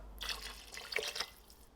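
Half a cup of water pours into a pressure cooker for beef stew, a soft, brief trickle and splash close by, quiet and without talking.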